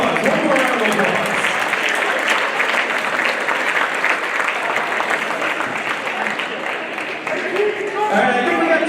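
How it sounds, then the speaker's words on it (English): Basketball fans at a high school boys' game on senior day applaud in a steady, sustained round of clapping filling the gym, with a brief lull near the end before the clapping swells again. "Fans, give him 1 more round of applause."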